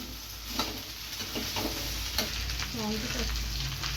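Okra pieces are stirred while frying in a pan, a steady close sizzle broken by repeated scraping strokes of a spatula against the metal. No voices are heard.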